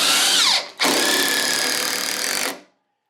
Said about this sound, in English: with a standard impact driver, you're going to hear the impacts the whole way in